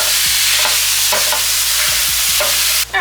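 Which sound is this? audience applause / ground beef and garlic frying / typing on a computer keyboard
ground beef and garlic frying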